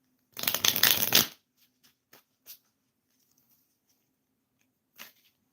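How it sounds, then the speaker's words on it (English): Tarot cards being shuffled in one loud riffling burst lasting about a second, followed by a few soft, scattered taps and a brief final flick of the deck, with no talk. "I'm shuffling the cards here for you."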